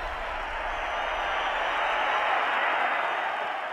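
A boxing arena crowd erupts in a steady, loud roar of cheers and applause that holds at full intensity throughout, broad and close with no single voice standing out.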